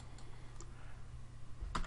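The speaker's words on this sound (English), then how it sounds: "let's hit M on the keyboard again" A single key press on a computer keyboard, a faint click near the end of the stretch over a low steady hum in an otherwise quiet room.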